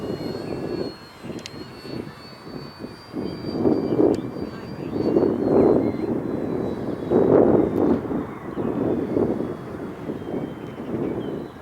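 An FMS Kingfisher RC model plane drones overhead on a windy day, its motor rising and falling as it passes, with gusts buffeting the microphone and muffled talk underneath.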